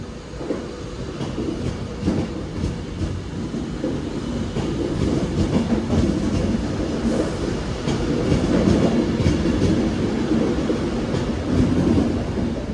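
A Class 390 electric train rolls through Stoke-on-Trent station, its rumbling wheels and rhythmic clickety-clack sustained and close throughout.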